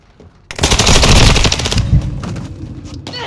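Loud, close bursts of automatic gunfire from Call of Duty Modern Warfare 2 Team Deathmatch on Valderas Museum, a dense rapid volley followed by scattered shots and a trailing rattle, with no talk.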